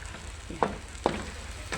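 Shrimp frying in a pan for a Filipino sayote and squash sauté, a steady sizzle broken by a few sharp scraping stirs close by.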